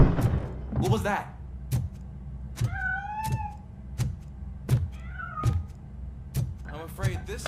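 A cat meowing in Robocop Rogue City, with two clear, rising-and-falling meows standing out between heavy, evenly spaced thuds and short mechanical noises.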